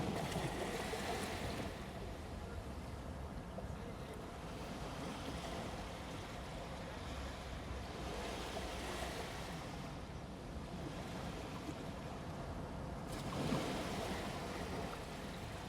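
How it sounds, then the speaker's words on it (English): Ocean waves roll and wash in a continuous, moderately quiet surf, with gentle swells rising and falling every few seconds and no voices. "You can hear the sound of waves."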